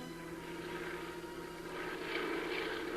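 Propeller airplanes from a radio drama sound effect, Forestry Department planes flying over burned mountains and hillsides near Malibu, droning steadily overhead at a fairly constant level that swells slightly toward the end, with no voices.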